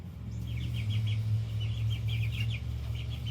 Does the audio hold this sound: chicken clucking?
yes